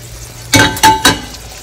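Fish pieces go into a hot pan of ginger sauce thickened with cornflour, three loud bursts of sizzling and stirring close by, then a low hiss, no voices.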